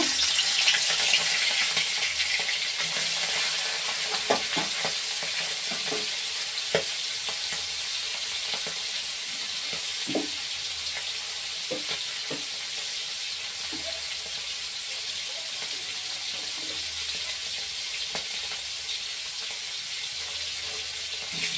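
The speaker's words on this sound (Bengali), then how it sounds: "বেশি ভাজবো না, অল্প করে ভাজবো।" Shrimp frying lightly in a hot pan, a steady bright sizzle running throughout with scattered soft clicks and pops, close and alone with no talking.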